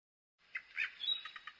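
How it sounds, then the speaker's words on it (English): A mechanical nightingale, a toy bird from the Emperor of Japan, sings a short string of quiet, high chirps and trills that begins after a moment of silence. "A mechanical nightingale."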